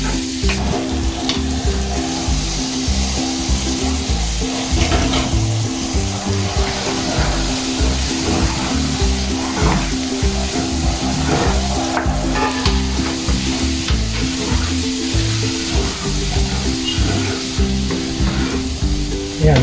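Garlic sizzles and fries in a hot pan for pancit, an Ilokano noodle dish, with steady stirring and scraping throughout. The sizzle stays loud and continuous from start to finish, and no voices are heard.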